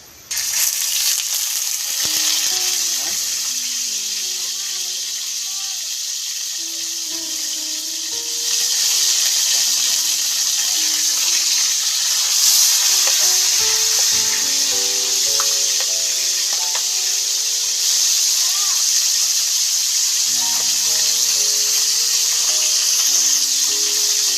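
Galunggong fish frying in hot oil in a pan, a loud, steady sizzle with a constant hiss throughout, with faint tones running underneath.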